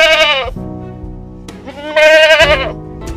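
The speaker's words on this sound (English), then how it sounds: "G for goat." A goat bleats twice in a children's alphabet lesson, two loud, wavering cries up close with a short pause between them over soft music.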